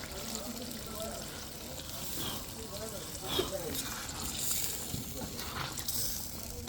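Water trickles and splashes into a hot pan of frying chicken and spices with faint frying noise, while a voice talks softly underneath throughout.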